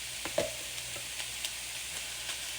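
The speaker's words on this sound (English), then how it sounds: "we're going to go ahead and put the sirloin steak in the pan, all of it" Sirloin steak, about 1.5 pounds, sizzling and frying in a pan for street tacos, a steady soft hiss with a few faint stirring clicks, fairly quiet and with no voices.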